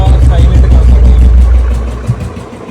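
A Royal Enfield Bullet motorcycle with a modified, quieted exhaust idles nearby in a deep, steady low thump, the engine note easing down and settling toward the end.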